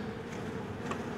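Honeybees buzzing during a hive inspection, a soft continuous hum of many bees close by with no talking, faint and brief.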